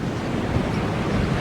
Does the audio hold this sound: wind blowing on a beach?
yes